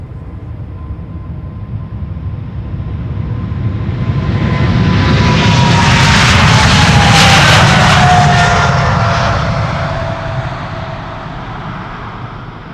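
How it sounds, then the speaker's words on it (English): A KLM Boeing 777-300 on flight 611 to Chicago takes off, its jet roar swelling from a distant rumble to a loud peak over several seconds, then fading, with a whining engine tone gliding downward as it passes. "Also this 777-300 taking off to Chicago, KLM flight 611."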